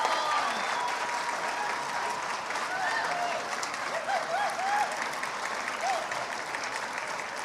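A crowd applauds the newly crowned homecoming king and queen at a school event, steady, fairly loud clapping with scattered cheers and whoops, and voices calling out over the noise.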